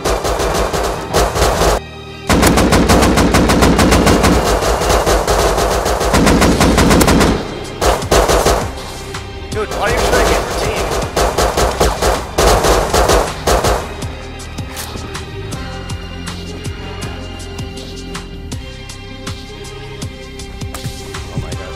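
AK rifle fire in the video game Rust, loud close bursts of rapid automatic shots with brief pauses between bursts, later giving way to quieter scattered shots and background game noise.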